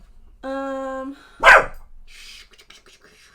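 A pet dog barks indoors: one sharp, loud bark close by, preceded by a brief tonal whine-like note, then quiet room sound with faint rustling afterward.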